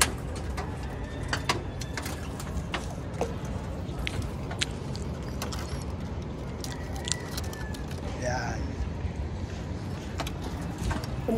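Young pigeons pecking and cooing while being set out in the sun, with soft coos and scattered sharp pecking taps against a steady low background of outdoor hum and distant traffic.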